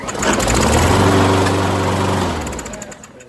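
A lawn mower engine with an automatic choke cranks and catches, roaring loudly and close for about two seconds before winding down and fading out.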